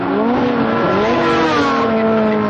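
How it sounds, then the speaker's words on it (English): Race car engines whine and rev loudly during a race, rising and shifting pitch as cars accelerate and pass, a dense continuous roar with overlapping engine tones throughout. "His engine sounding very thick."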